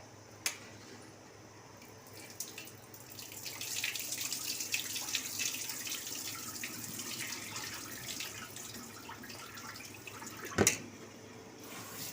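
Tap water runs in a home kitchen while things are washed at the sink during cooking, a steady broadband wash that swells in the middle, with a few sharp clinks near the start and a louder knock near the end.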